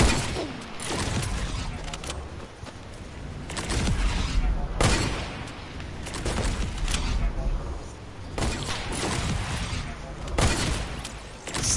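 Video game gunfire in bursts of rapid shots that come in clusters every few seconds, loud and close, mixed with sharp bangs and cracks, with a voice talking over parts of it.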